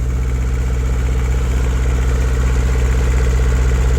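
A tractor engine idles loud and close while a plow is set, its deep, even rhythmic throb holding steady throughout with no voices over it.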